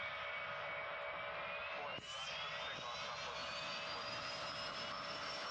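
Boeing 777 engines at full throttle in the AirLine Commander flight game, a steady loud jet roar with a rising whine building over a few seconds and a brief click partway through.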